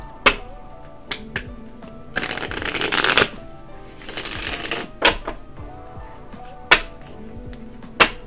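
Tarot cards are shuffled up close in two riffling bursts, with scattered sharp taps and clicks of cards being handled before and after.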